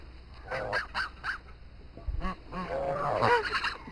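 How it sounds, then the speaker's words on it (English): Geese kept as pets honk close by in several loud, nasal calls, scattered at first and then overlapping in a noisy cluster toward the end. "So these are the geese."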